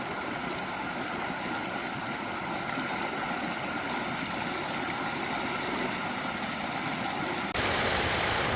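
Stream water pours over a small makeshift dam at a campsite along County Road 60 near Red Cone in Colorado, a steady close rushing and splashing that fills the whole stretch with no voices.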